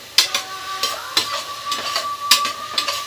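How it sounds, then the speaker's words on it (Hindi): Spices being fried in a pan with a spoon stirring, soft sizzling beneath repeated scraping and clinking strokes against the pan, close by with no talk. "तब तक ये सारे मसाले भून जाएंगे अच्छे से"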